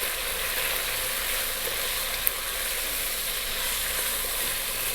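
Chopped garlic and eight whole black olives with stones fry in a pan over high heat, giving a steady, even sizzle that crackles softly without any pause.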